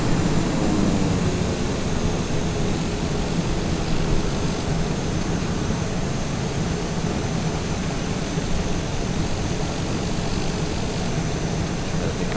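Microsoft Flight Simulator 2020 aircraft landing under ILS guidance in a crosswind, a loud, steady engine and airflow roar that holds unbroken throughout, with no voices.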